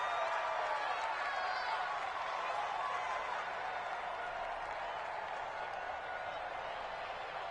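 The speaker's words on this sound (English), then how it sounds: "The crowd may be losing just a little bit of the edge after back-to-back punts." A stadium crowd in an American football video game, Bengals on offense, gives off a steady, fairly faint roar and murmur of cheering, with commentary talk running over it.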